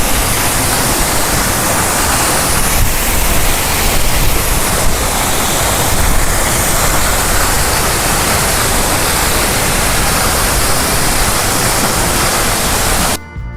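Subhedar Waterfall, a hidden cascade in the Sahyadri hills, roars as a steady, loud broadband rush of falling white water, unbroken and close, with no voices over it until it cuts off abruptly at the end.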